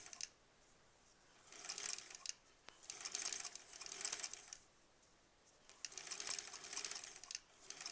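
A sewing machine stitches small stitches through a bulky quilt block, quiet close whirring in three short bursts separated by pauses.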